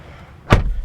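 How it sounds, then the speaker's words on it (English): The door of a 2022 Kia Soul Turbo is pulled shut from inside, a single close, solid thud after a quiet interior. "reaching over here to shut the door"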